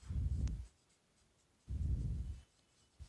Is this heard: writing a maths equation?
yes